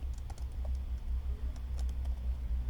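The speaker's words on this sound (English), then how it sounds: "I'm just typing English here." Computer keyboard typing in scattered clicks and short runs of keys, close and fairly quiet, over a constant low electrical hum.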